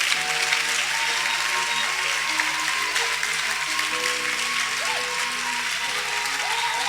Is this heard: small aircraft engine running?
no